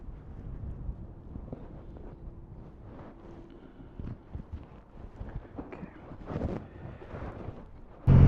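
Buffeting wind noise roars over a DJI Mic Mini worn while riding a motorcycle on a dual carriageway, a steady low rumble swelling in gusts with a loud blast at the very end.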